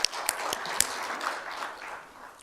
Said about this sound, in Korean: 하나님 앞에 영광, 주님 앞에 박수 올려드립시다.